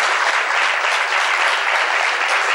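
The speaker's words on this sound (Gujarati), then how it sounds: "આપણે તાળી તો વગાડો" An audience at a Swaminarayan religious discourse bursts into dense, sustained applause, many hands clapping together at an even level for the whole moment.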